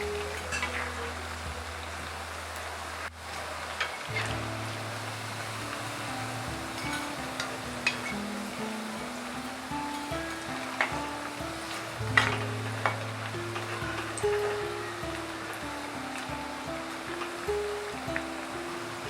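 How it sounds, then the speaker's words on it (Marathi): Poha vada fry in hot oil in a pan, a continuous soft sizzle and bubbling with occasional faint clicks as the vadas are turned, steady and close beneath a low background hum. "आता आपण हे दुसऱ्या साइडून पण पलटी मारून घेऊया, दोन्ही साइडून व्यवस्थित शिजवून घेऊया।"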